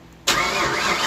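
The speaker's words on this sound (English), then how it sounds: "Let's see if it fires." A car that had been sitting for years cranks briefly and then catches, its engine bursting into a loud, steady idle close by, with no talking.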